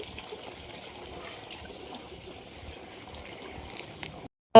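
Water running from a motor pump to fill a drinking trough for cows and buffaloes in a village, a soft steady trickle and flow that cuts off near the end.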